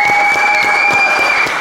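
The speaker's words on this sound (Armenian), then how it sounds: "Ծափանենք Լիա Զախարյանին" An audience applauds in welcome of Lia Zakharyan, a loud, dense burst of many hands clapping close by, with a steady electronic tone running underneath throughout.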